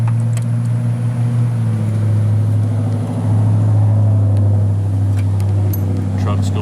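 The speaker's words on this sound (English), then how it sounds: "Trucks going down the road." Trucks pass along a neighborhood road, a steady low rumble that swells and recedes at moderate distance under faint background noise.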